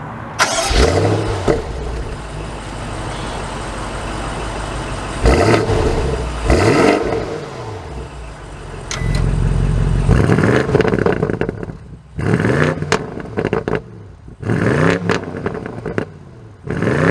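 A 2022 BMW M850i xDrive Gran Coupe starts up and pulls away, its engine revving loudly in repeated bursts with pauses and gear changes between, close and clear with no talk.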